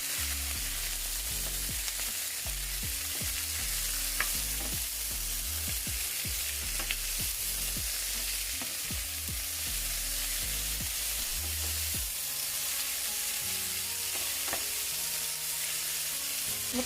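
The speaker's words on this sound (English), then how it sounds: "And just kind of stir this in a little bit." Salted escovitch fish sauce simmers and sizzles steadily on a stovetop while a spoon stirs it, with occasional soft scrapes and clinks, close and continuous without speech.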